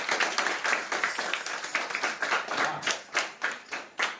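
Village audience at a home-library reading event clapping to congratulate a local soldier, a close, lively round of hand claps, fairly rhythmic and steady, with no talking over it.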